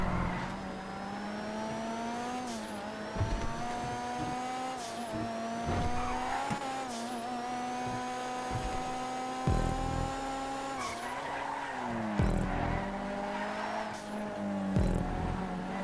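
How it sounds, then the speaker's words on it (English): Pegassi Monroe sports car in GTA 5 racing around a track, engine droning steadily with pitch rising and falling through gear changes, tires squealing into corners, loud and continuous with no talk. "I love the Monroe, it's such a beautiful car to drive."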